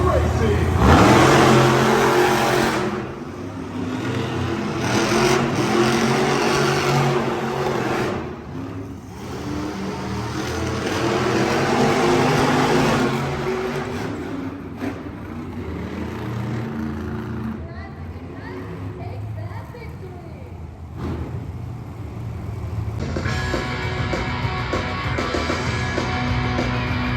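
Monster trucks at a Monster Jam show in Tucson, Arizona, revving and racing in an arena, loud and continuous with surging engine pulls over crowd noise and an announcer talking throughout.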